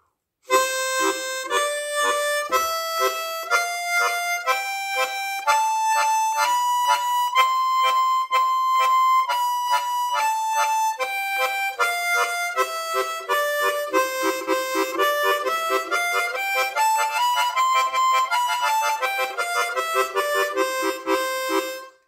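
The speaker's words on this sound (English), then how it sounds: "put a single tongue slap on each second beat of the note" A harmonica plays a melody in short, detached notes and chords, evenly pulsed and close, with crisp, clipped attacks throughout.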